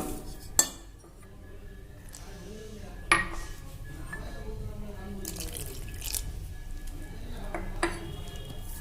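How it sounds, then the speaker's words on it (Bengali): Coriander-leaf fritter batter made with cold water is mixed in a bowl, giving soft, quiet sloshing with a few sharp clinks of a utensil against the bowl and faint voices in the background. "এভাবে আমরা উপকরণটি সম্পূর্ণ মেখে নেব বন্ধুরা এই যে ব্যাটারটি আমার হয়ে গেছে"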